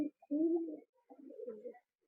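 Two soft, low cooing phrases from Punjabi pigeons, close by, with a short gap between them and silence around.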